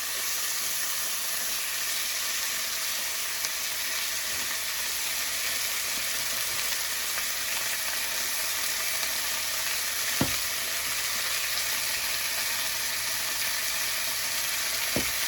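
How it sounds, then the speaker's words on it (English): Steak browning in a hot pan gives a steady, loud, close sizzle and frying hiss that runs throughout, with a couple of brief clicks or knocks from the pan and no talk. "I'm just going to brown it on all the sides."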